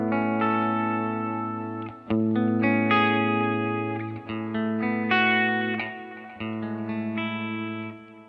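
Electric guitar through the Ventoux amp model in a Line 6 Helix, drive turned up, plays sustained, distorted chords with gritty harmonics, loud and close, with brief gaps between strummed phrases.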